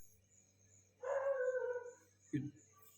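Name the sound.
dogs barking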